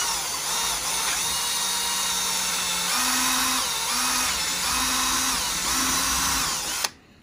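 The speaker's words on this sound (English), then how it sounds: "I'm just making a hole so I can fit a jigsaw in there." A power drill bores a starter hole for a jigsaw blade, its loud, high whine running continuously and changing pitch several times as the bit bites, then stopping abruptly near the end.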